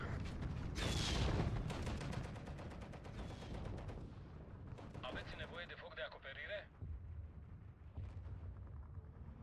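Artillery and gunfire in the WWII strategy game Steel Division 2, including a machine-gun bunker on a hillside: a loud boom followed by rapid bursts of firing and rumbling blasts, with a mechanical whirring passage in the middle.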